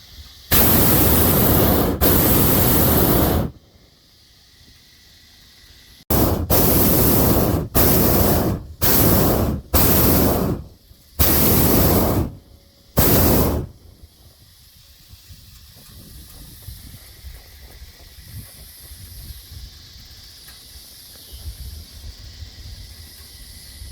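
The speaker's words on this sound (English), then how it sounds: "then I'll empty a little bit of heat out of the balloon" Loud roaring hiss of a hot air balloon venting heat over trees, coming in long and short bursts of about three seconds and then under one second, followed by a quiet background with faint rumble.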